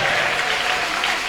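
Applause from a church congregation during a women's worship service, a dense steady burst of many hands clapping, loud and close, continuous throughout the short moment.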